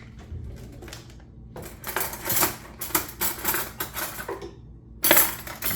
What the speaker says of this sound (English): I'm gonna grab a little spoon.